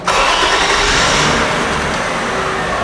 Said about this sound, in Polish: Ja uruchomię samochód